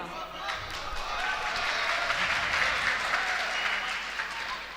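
Audience applause at a ghazal recital during a mushaira poetry gathering, a broad steady wash of many hands clapping that swells and holds through the whole stretch, moderately loud and without words.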